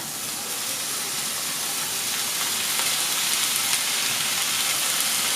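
Washed chanterelle mushrooms sizzle in butter in a pan over a low flame, a steady, even hiss that fills the whole stretch with no talking.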